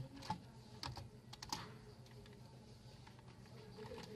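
Fingers tapping on a computer keyboard during Minecraft play, scattered faint key clicks in a short burst and then sparser taps over a low steady background hum.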